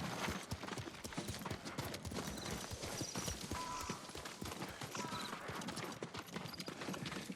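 Horse hooves clip-clop steadily on terrain in Ghost of Tsushima, close and rhythmic, while a voice speaks now and then over quiet game ambience.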